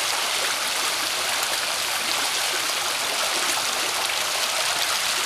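Overflow water pours steadily over a wetland marsh spillway into the Seneca River, a dense, continuous rushing wash with no breaks and nothing else heard.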